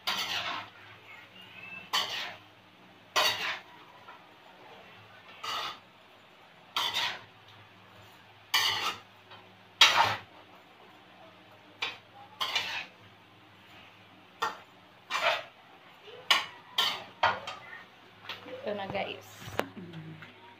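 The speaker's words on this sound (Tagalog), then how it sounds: "Hahaluin muna natin siya." A metal spoon stirs and scrapes a guisado of sayote and pork in a pan, sharp clanks and scrapes arriving in irregular bursts with quieter gaps between them, close by.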